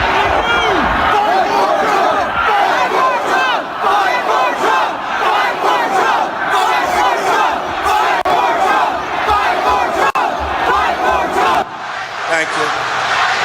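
A dense rally crowd at the U.S. Capitol shouts and chants continuously, many voices massed together with cries rising over a steady roar, loud and close throughout.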